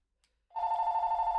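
A telephone bell in a survival video game under development starts abruptly and rings steadily, loud and close, with a bright sustained metallic trill and no talk over it.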